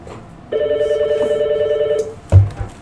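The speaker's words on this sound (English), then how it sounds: "Phone's ringing here every single class of the year, hasn't it?" A telephone rings in a classroom, one long steady electronic ring lasting about a second and a half, followed by a clunk as the handset is picked up.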